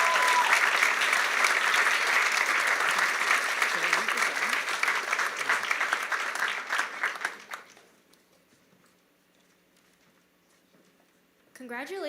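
Audience applause at a school awards ceremony for grade 12 recipients, a dense, steady round of clapping for about seven seconds that fades into near silence before a voice returns at the end.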